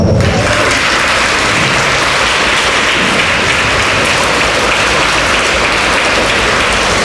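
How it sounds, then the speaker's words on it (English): Dense, steady applause from a kindergarten promotion ceremony audience clapping for the kindergarten teachers, filling the whole stretch loudly with no voices on top. "give your kindergarten teachers a round of applause"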